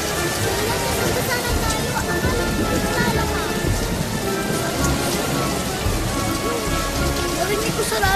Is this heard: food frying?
no